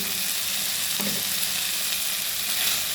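Food sizzles steadily in a frying pan just after salt and sugar have gone in, with a soft scrape of stirring around the one-second mark, close and continuous with no voices.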